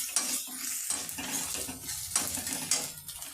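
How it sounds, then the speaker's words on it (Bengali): Chopped green chili and other chopped ingredients lightly frying in a pan for chola bhuna, stirred often: a steady close sizzle broken by repeated scraping stirring strokes, with no talking. "এগুলো আমি একটু হালকা করে ভেজে নেব, খুব বেশি ভাজবো না, একদম হালকা করে ভাজবো।"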